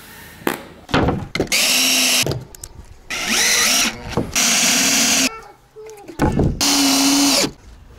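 Power drill driving plain countersunk screws into the planked roof of a children's playhouse, with three long steady whirring bursts broken by short clicks and thunks, close and loud.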